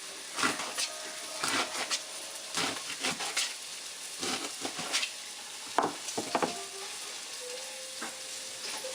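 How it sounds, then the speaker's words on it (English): Panko crusted salmon ingredients stirred in a pot with no liquid, giving repeated scraping and clattering strokes over a steady sizzle. "you want to stir it up really good"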